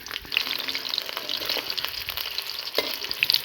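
Chopped onions sizzle loudly in mustard oil in a wok, a steady crackling fry with stirring scrapes, no talk over it.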